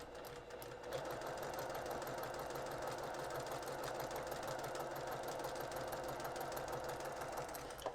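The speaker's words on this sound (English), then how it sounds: "And I'm going to start to stitch." Sewing machine stitching pieced quilt-top fabric at a quarter-inch seam, a steady rapid mechanical whirr after a brief start, running continuously and fairly quiet.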